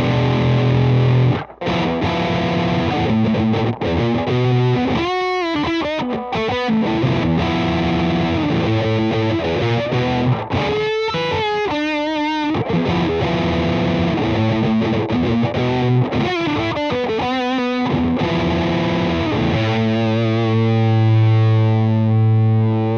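A Greer Amps Soul Thrust fuzz pedal drives an electric guitar into thick, saturated fuzz, playing sustained chords and riffs with brief pauses, loud and close, with no talk.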